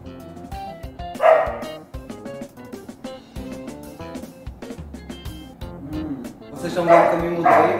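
A dog barks near a home kitchen where doce de leite is being made, giving a few sharp, loud yaps early on and a louder cluster near the end over background household sounds.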